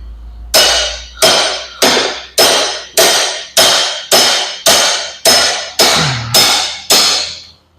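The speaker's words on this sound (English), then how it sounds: "Take my sledgehammer, and I've got a old 1-inch rod. I'll put through the cross tube on the eye." Eleven hard, evenly spaced sledgehammer blows ring out on an old one-inch steel rod set through the cross tube eye of a DU-AL tilt cylinder being resealed, each strike loud and close with a short metallic decay.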